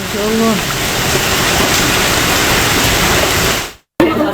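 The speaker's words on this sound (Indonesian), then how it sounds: "Jadi tuh es batunya juga lumayan berisik ya, karena nimpang-nimpang atap gitu." Hailstones pelt a roof during a storm with heavy rain in Jakarta and Tangerang, a loud, steady, dense clatter that fills the scene and cuts out abruptly near the end before resuming, with a brief voice early on.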